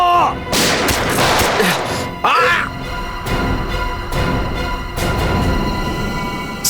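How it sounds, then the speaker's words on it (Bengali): Rapid volleys of gunfire from a TV crime drama, loud and close, with repeated sharp shots over a dense action soundtrack and a brief whooshing effect in the middle. "সিআইডি অফিসারকে গুলি করে দিলি?"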